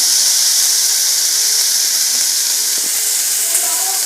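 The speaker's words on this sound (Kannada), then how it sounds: "ಇವಾಗ ಫ್ರೈ ಮಾಡ್ಕೋಬೇಕು ಚೆನ್ನಾಗಿ ಫ್ರೈ ಮಾಡಿಕೊಂಡು" Ingredients frying in a pan for a Raichur-style brinjal curry: a loud, close, continuous hissing sizzle that stays steady the whole time, with a few faint clinks near the end.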